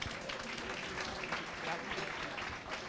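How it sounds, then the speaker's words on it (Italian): Audience applause for singer Salvo Laudani at a pub festival contest, a fairly faint, steady wash of many hands clapping that continues evenly throughout. "Ancora un applauso per Salvo Laudani."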